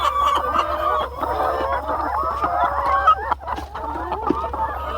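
About a hundred chickens on a Thai farm cluck continuously inside a small straw-roofed chicken hut. The dense, overlapping chatter sounds close, with a steady low hum underneath.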